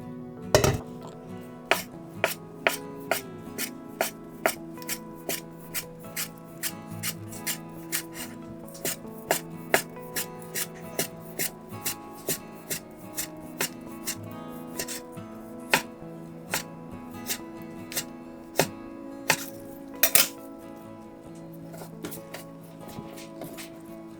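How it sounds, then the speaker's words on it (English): A knife slicing carrots on a cutting board for vegan carrot lox, steady crisp chops repeating for about twenty seconds with occasional louder knocks, close and clear with no talking. "once we finish slicing all carrots"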